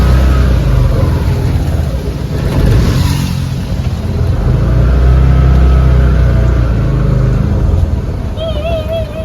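A car rumbles past at close range, a loud, steady engine drone swelling and holding over several seconds amid heavy background noise, with a faint tonal chirp near the end.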